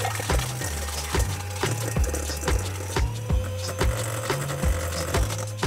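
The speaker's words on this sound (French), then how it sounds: "on utilise le batteur jusqu'à l'obtention d'un mélange bien crémeux" An electric hand mixer creams butter and sugar in a bowl for a lemon fondant cake, a steady motor whir with a regular thumping beat as the beaters knock the bowl, close and loud throughout.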